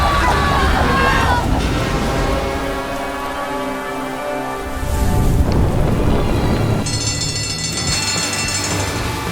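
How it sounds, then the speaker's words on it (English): Heavy rain pours steadily through an animated thunderstorm scene with a struggling truck. Loud continuous downpour runs throughout, with tonal music and effects layered over it and a bright high tone entering near the end. "The storm was raging, and in the midst of the rainstorm, a truck was out of control and moving with great difficulty."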